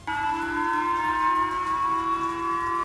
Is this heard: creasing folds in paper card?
no